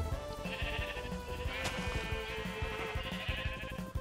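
Minecraft sheep bleat in repeated short calls over steady in-game background music, fairly quiet, with no talking.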